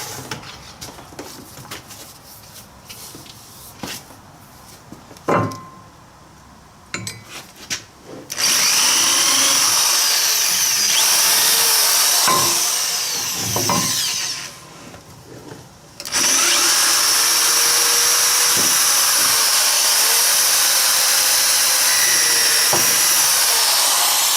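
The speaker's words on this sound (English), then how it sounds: "Pretty sweet drill." A power drill whines in two long, loud continuous runs, broken by a short pause, after quieter scattered handling clicks and knocks.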